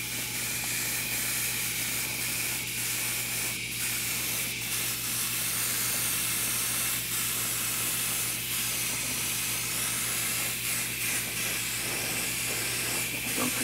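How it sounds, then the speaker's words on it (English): An airbrush sprays paint onto a quarter-scale Aquaman figure in a steady, continuous hiss over a low mechanical hum, with faint brief clicks and no talking. "Spraying now, let's see if I want to spray once I record."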